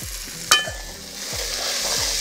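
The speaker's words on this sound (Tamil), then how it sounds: "போட்டு நல்லா கிளறி விடுவோம்." Boiled chickpeas are stirred into a frying pan with small diced potatoes, a utensil scraping in a few rhythmic strokes over a steady close sizzle.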